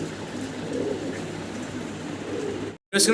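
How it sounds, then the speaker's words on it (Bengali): A pair of Modena pigeons coo in low, soft repeated calls close by, steady across the clip before a brief cut near the end. "দর্শক আমরা এক পেয়ার মডানা কবুতর এখানে দেখতে পারতেছি"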